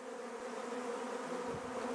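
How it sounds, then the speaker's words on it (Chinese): Honeybees swarming out of a hive fill the air with a dense, steady, loud hum that stays constant throughout, with no talking. "哪个箱子在分蜂啊？"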